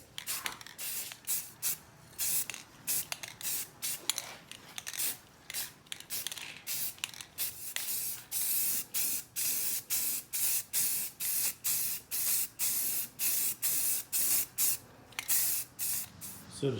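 Short bursts of a spray paint can hiss repeatedly as paint is dusted over a cast iron and wood park bench, the rhythmic sprays quickening into a steady pulsing pattern.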